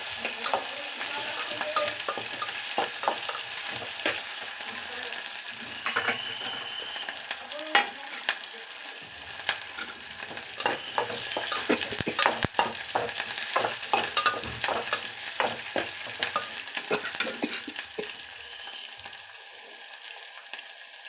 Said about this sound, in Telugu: కొంచెం కొత్తిమీర, కరివేపాకు కూడా వేసి వేయించుకోవాలి